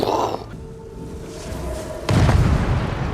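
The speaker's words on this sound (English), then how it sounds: "so the thing is exploded, and so the forge is in ruins" A forge explodes in a fantasy TV drama scene. A quieter stretch with faint tones breaks into a sudden loud boom that rolls on as a sustained, heavy rumble.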